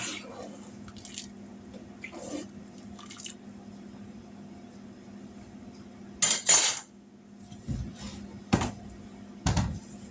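A spoon stirs homemade chicken noodle soup in a pot, giving a few sharp metallic scrapes and clinks against the sides between quiet stretches of faint kitchen background and soft liquid sloshing.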